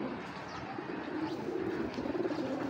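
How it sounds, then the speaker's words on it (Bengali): Two pairs of Sapchila pigeons coo in low, throaty rolling calls, repeating close by with gentle pulsing rhythm and faint background chirps, no voices. "ফুল মুস্তিতে ডাকতেছে কবুতরগুলো"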